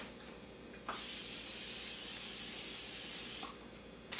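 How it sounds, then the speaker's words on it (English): Cooking spray hissing steadily for nearly three seconds as a pie pan is greased over a kitchen sink for a pumpkin pie, close and fairly faint. "make sure that you are greasing the bottom of your pan, whether it's with Crisco or a spray or whatever you like to bake with"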